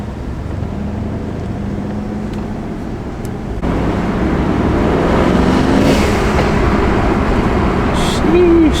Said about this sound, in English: let me show you guys a little blow-off valve